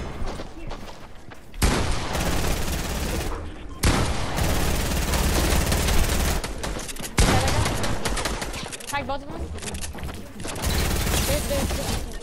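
Bursts of loud, rapid gunfire from a gun in a video game, coming in several separate volleys with brief lulls between them, while players talk over the shooting.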